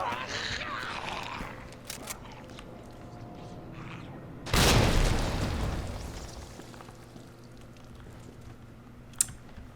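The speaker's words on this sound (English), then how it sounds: "Oh, and there goes a grenade." A grenade explodes in Resident Evil 2, one sudden loud blast that decays over a couple of seconds, set between quieter clicks and ambient game noise.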